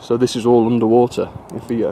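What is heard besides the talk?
None of the usual background noises is heard.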